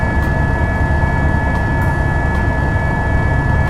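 A rescue helicopter hovers close overhead to lift an injured woman from a forest trail, its engine and rotors making a loud, unbroken roar throughout.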